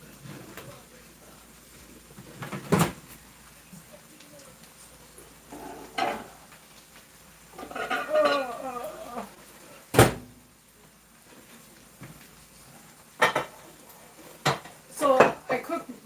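A hot bowl of microwaved rice is lifted out and set down, with dishes and cutlery clattering in several sharp knocks and a longer rattle in a kitchen, and a person speaks now and then.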